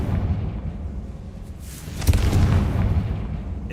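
In Hogwarts Legacy, a Confringo fire spell erupts in a deep, booming explosion midway through, rolling out over a low rumbling backdrop of game ambience.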